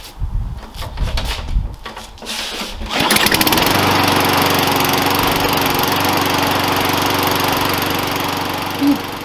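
After a few seconds of clicks and handling, a lawn mower engine catches and starts, then runs at a loud, steady drone close by for the rest of the clip.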